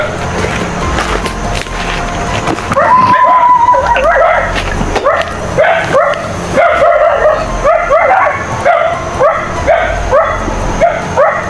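Several dogs barking and yipping near a hut, a rapid run of sharp barks with some whimpering, loud and close, repeating in bursts with no talking.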